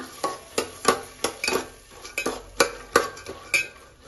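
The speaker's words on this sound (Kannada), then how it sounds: "ಚೆನ್ನಾಗಿ ಫ್ರೈ ಮಾಡಬೇಕಾಗುತ್ತೆ ಕಾಳನ್ನ." Lentils being stirred and fried in a pan for sambar, with a spoon clacking and scraping against the pan about a dozen times in a steady rhythm, close and distinct with a faint sizzle under it.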